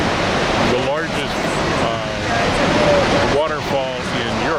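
Dettifoss in Iceland, Europe's largest waterfall, roars as a loud, steady broadband rush of falling water close by, filling the whole stretch without break.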